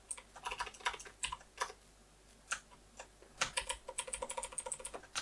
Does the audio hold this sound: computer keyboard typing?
yes